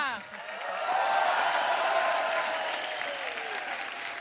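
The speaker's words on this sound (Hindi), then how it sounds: "लोग तालियां बजा रहे हैं" Studio audience clapping steadily throughout a comedy talk show taping, a dense, sustained wash of applause that swells early and holds at an even level to the end.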